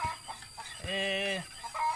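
A chicken clucks once, close and fairly loud, with a short rising call, over a backdrop of Vietnamese conversation and household noise.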